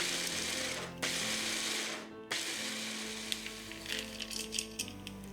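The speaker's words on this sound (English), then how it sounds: "I'm gonna put walnuts in the food processor and I'm gonna grind them as fine as I can." A tiny food processor grinds walnuts in short pulses, a close buzzing motor whir with rattling nut pieces, briefly stopping and restarting, with the rattle becoming more uneven toward the end.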